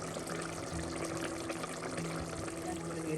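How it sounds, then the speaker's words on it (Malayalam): Coconut milk is poured into a simmering ribbon fish chilli curry, giving a soft continuous liquid pour and trickle heard up close with no voices. "രണ്ട് ടേബിൾ സ്പൂൺ തേങ്ങാപ്പാൽ കൂടെ ചേർത്ത്"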